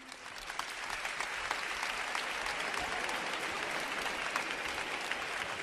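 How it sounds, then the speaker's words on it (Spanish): Studio audience applause on a Spanish television game show welcoming a new contestant, a steady, even roar of many hands clapping throughout, heard at a moderate distance with no talk. "damos ya un fuerte aplauso al nuevo concursante"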